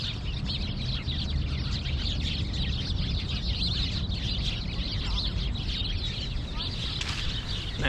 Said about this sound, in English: This bush is filled with birds.